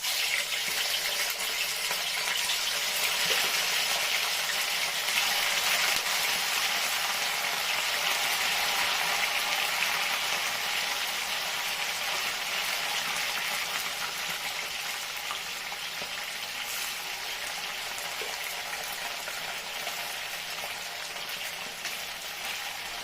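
Fish fries in hot oil in a pan, a dense, even crackling sizzle like steady rain that runs unbroken and fairly close throughout.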